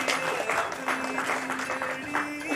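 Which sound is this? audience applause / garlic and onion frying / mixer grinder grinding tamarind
audience applause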